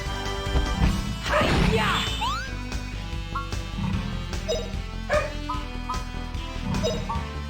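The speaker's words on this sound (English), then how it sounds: "Can't stop the dog, I wish I could tell." A dog barks loudly and repeatedly nearby, yipping and whimpering in between, with game music and sound effects playing underneath.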